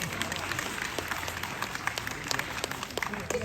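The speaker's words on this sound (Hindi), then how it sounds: "अगर प्रस्तुति पसंद आ रही है तो जोरदार तालियां बजाइए" Students at a college NSS camp clap for a Hindi poem recitation, a dense, fairly close patter of many hands with a few sharper individual claps standing out.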